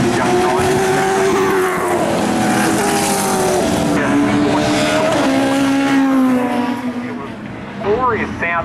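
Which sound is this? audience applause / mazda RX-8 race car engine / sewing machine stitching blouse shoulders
mazda RX-8 race car engine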